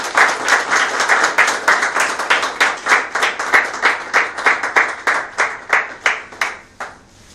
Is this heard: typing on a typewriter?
no